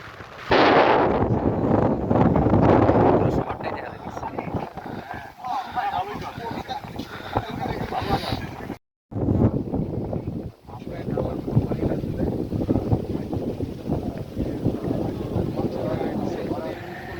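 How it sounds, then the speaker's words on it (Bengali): Strong night wind on Nilachal hill roars and buffets the microphone almost continuously, with a brief dropout midway and voices faintly mixed in. "অনেক বাতাস"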